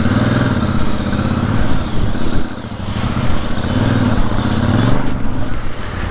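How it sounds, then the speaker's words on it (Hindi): A Royal Enfield Super Meteor 650 motorcycle engine chugs loudly and close, a deep rhythmic thump that rises and falls as the bike is ridden, with brief dips between throttle pulls. "इसका इंजन ऐसी साउंड लग रहा है जैसे अपना इंटरसेप्टर है"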